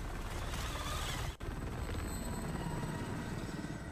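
A helicopter in Call of Duty Warzone drones with a steady, loud rotor thump and engine whine, continuous and close, with one brief dropout in the middle.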